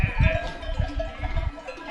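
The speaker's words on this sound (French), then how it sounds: "Il y a un paquet de moutons." A flock of sheep bleats loudly and close by on a high mountain slope in the Pyrenees, several overlapping calls rising and falling in quick succession over an open outdoor background.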